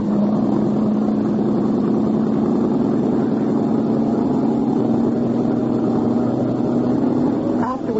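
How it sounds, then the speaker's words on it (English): A boat engine revs up as a radio drama sound effect, a loud continuous mid-pitched motor drone that holds steady throughout and ends with a brief shift near the close. "Rev her up."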